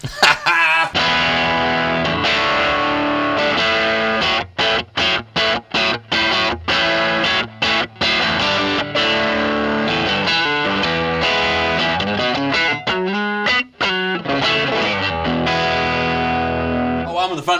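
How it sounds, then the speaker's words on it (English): An electric guitar played through an amp with high gain and reverb in the effects loop, giving distorted, sustained chords and sharp stabs with brief breaks and a lingering reverb tail. "the more gain you use from the amp, the more you're probably going to want to use the reverb through the effects loop"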